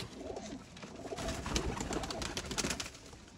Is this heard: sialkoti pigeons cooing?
yes